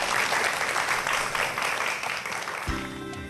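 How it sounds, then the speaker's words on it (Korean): An audience gives applause after a professor's lecture, a fairly dense burst of clapping that thins out toward the end as a low tone or music enters. "오늘 재밌는 강연해 주신 차국현 교수님께 박수 부탁드리겠습니다."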